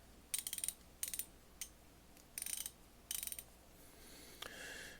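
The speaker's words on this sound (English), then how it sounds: "And you see if it ratchets." A vintage Westline 3/8-inch drive ratchet from Western Auto, also sold as Indestro, clicks in several quick bursts of rapid close ratchet ticks, with short pauses between them and no voices.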